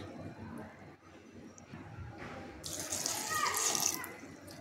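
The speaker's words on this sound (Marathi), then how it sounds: "आता त्याच्यामध्ये मी थोडं पाणी घालून घेणार आहे" Water pours into a cooking pot for greens, a bright splashing stream that rises in the second half over low room noise and a faint voice.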